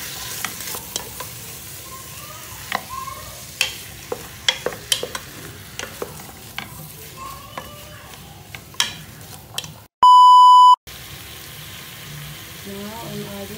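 Salmon chowder ingredients sauté in a pot, a soft continuous sizzle broken by frequent sharp spoon-on-pot knocks and stirring clatter, close up, with a brief loud electronic tone near the end.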